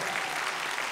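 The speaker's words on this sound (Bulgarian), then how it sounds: "Аплодисменти за мъжете на клуб за народни танци моряците" A concert audience applauds the men of a folk dance club at an ensemble's anniversary performance: a brief, dense wash of many hands clapping, steady and somewhat distant.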